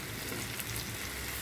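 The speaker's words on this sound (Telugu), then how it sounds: "తర్వాత ముక్కలు వేసి వేయించుకోవాలి." Potato and cauliflower pieces with turmeric, salt and chili powder fry in a pan, giving a steady, close, even sizzle with no pauses.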